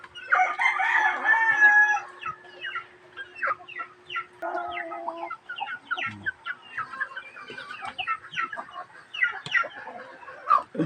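Chickens and young chicks cluck and peep busily at close range while a rooster crows near the start, followed by scattered clucks and pecking sounds.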